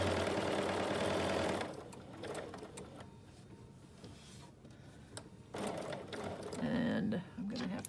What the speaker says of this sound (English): I'm going to stitch all the way around my letter, which goes in my envelope, with an 1/8 of an inch edge stitch